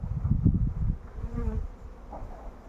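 Honey bees in an opened beehive buzz close by in a low, droning hum with brief louder swells, heard during a beekeeping hive inspection.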